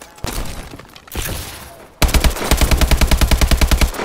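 An AK rifle in Call of Duty fires a long, loud, rapid automatic burst with steady rhythmic reports, preceded by scattered distant shots and game noise.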